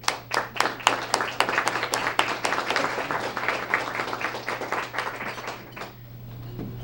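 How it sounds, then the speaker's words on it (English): An audience at a Student of the Month school event applauds, a burst of many hands clapping loudly near the start that gradually thins and fades out after about six seconds. "So let's give them a great round of applause."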